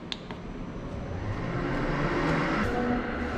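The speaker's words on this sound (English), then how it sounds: "You can hear that milk machine fire right up" A dairy farm milking machine starts up and runs as a steady, loud mechanical whir and hum that builds and holds throughout, with no talk.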